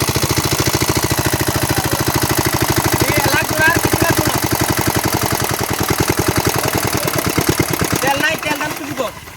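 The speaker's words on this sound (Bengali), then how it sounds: "আমাদের খাত ইঞ্জিন লাগানো হয়ে গেছে" An irrigation pump engine runs close and loud while draining a pit for fishing, a fast even diesel-like chugging with regular knocking pulses that changes near the end.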